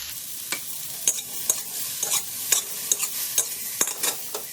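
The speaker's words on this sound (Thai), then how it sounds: "ก็ผัดให้เขาเข้ากันนะคะ" Okra stir-fried in a pan, with a steady sizzle broken by a rapid run of sharp spatula scrapes and taps against the pan, close and fairly loud with no voices.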